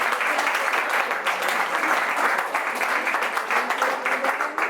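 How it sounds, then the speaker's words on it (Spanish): Sustained applause from a crowd, dense and steady clapping filling the whole stretch with no pauses. "¿Permite aplaudir o no?"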